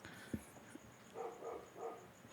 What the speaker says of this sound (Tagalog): Speaking of aso. Yeah, itong tumatahol.